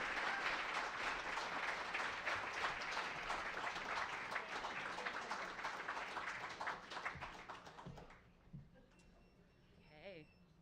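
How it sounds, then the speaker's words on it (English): Audience applause at the Old State Saloon bursts out steadily for about eight seconds of dense clapping, then fades quickly into near quiet with faint scattered noise. "would you please give a big round of applause for my friend Liz Crokin?"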